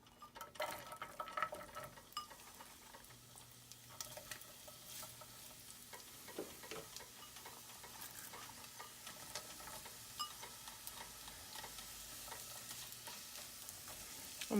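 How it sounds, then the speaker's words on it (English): Onions sautéing in plenty of olive oil in a pan give a steady, soft sizzle throughout, with occasional stirring scrapes and a faint low hum beneath. "let them just saute until they are soft and nice and pliable and transparent"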